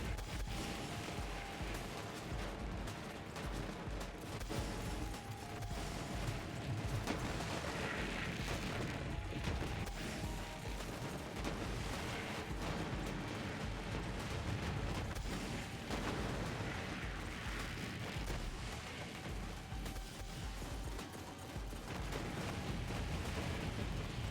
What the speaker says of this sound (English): It simply keeps exploding.